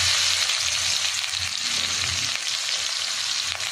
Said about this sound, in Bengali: এবার আমি রসুনগুলো দিয়ে দেবো। রসুনগুলো একটু ভাজা ভাজা হয়ে যাবে।